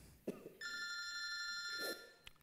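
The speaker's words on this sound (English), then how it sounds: "The phone could go off." A telephone rings during a musical performance, one continuous electronic ring lasting over a second, fairly quiet and set between soft knocks and rustles.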